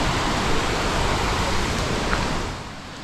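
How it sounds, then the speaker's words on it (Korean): Steady, broadband rushing of a mountain valley stream at Deokdong Valley in Jecheon, a dense forested gorge, holding a constant loud wash of water from start to finish with no voices. "시원한 물소리가 올라오는 계곡으로 내려갑니다"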